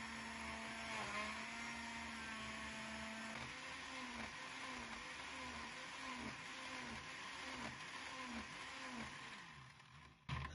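A blender whirs steadily for about ten seconds, mixing a strawberry smoothie of strawberries, water and a spoonful of sugar, its motor pitch wobbling slightly as the contents churn before it cuts off at the end.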